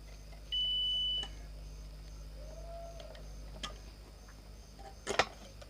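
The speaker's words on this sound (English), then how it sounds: "Listen to the beep." A single high-pitched electronic beep from a clothes iron sounds briefly and clearly in a quiet room, followed later by a few soft clicks and taps.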